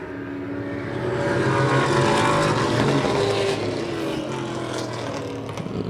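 Race cars lap Wiscasset Speedway, a 3/8-mile oval, at about 70 mph. Their engines build to a loud, sustained roar and then hold a droning, slightly wavering blare as the pack circles.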